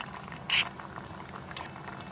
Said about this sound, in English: We're gonna bring the potatoes to a boil